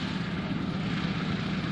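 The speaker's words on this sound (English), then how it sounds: "AT-7C built by Beechcraft" A Beechcraft AT-7C, a World War II twin-engine plane at an air show, gives a short, steady, loud engine drone with a broad rumbling roar and no talking.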